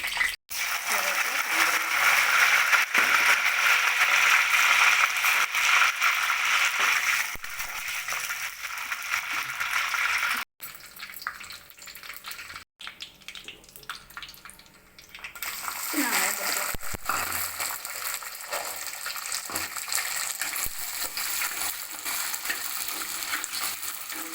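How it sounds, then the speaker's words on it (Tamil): Mustard seeds and urad dal crackle and sizzle loudly in hot oil close by, a dense frying hiss that fades partway through and then returns, with a voice speaking at times. "கடுகு போட்டுக்கலாம் கடுகு உளுந்து"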